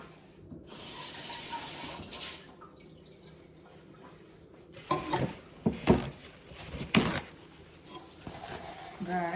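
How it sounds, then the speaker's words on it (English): A measuring cup is rinsed under a kitchen tap with short bursts of splashing and dripping water, mixed with light clatter as it is handled and faint talk in the background. "which I'm gonna rinse this out"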